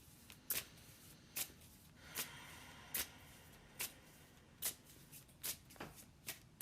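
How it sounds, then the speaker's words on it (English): Hands shuffle an I Ching Wisdom tarot deck, giving a quiet, close series of crisp riffling card snaps repeating at a steady pace, about one every second, with no talking. "That I can shuffle for a really long time."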